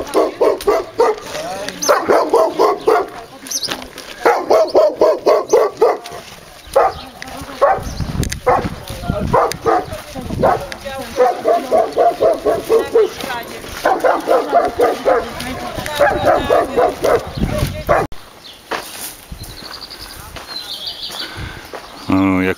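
A dog barks repeatedly in bursts, close and loud, with yips and whimpers mixed in between.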